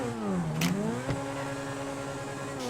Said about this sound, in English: right as you get into second gear, take your finger off the accelerator, tap the e-brake, and then slam back on the gas